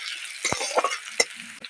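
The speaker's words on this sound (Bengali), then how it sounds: "পেঁয়াজটা হালকা বাদামি করে ভেজে নিলাম।" Chopped onion and a green chili fry in a small amount of white oil, a soft close sizzle broken by a few sharp utensil clicks and scrapes.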